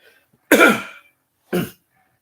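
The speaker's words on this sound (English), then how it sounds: "I have to clear my throat." Two sharp throat clearings close to the mic, a longer rasping one followed a second later by a shorter one, with silence around them.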